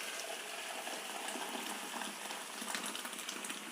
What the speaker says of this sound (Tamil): இங்கே பாருங்கள், நல்லா ஜம்முன்னு கொதி வந்துட்டு